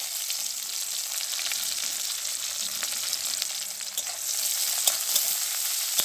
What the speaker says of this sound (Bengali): তেলের মধ্যে দিয়ে দেব পেঁয়াজ কুচি